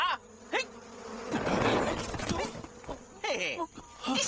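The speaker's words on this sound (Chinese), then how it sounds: "我的蜜蜂怎么追得上你啊？" A swarm of bees buzzes around a fleeing man, the buzzing swelling in the middle under shouting voices and cries.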